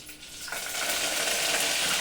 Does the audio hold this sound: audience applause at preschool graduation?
no